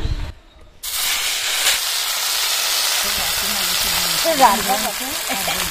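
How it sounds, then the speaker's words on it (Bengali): Bele fish frying in mustard oil in a wok gives a steady, close hiss and sizzle that rises after a brief quiet gap and continues throughout, with faint voices or background sounds appearing near the end. "বেলে মাছগুলো ভাজার জন্য কড়াইতে সর্ষের তেল দিয়ে দিলাম"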